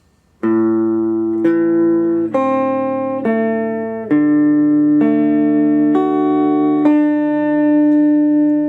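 A guitar plays a short phrase of clear single notes and chords, each new note struck cleanly and ringing into the next, steady and moderately loud.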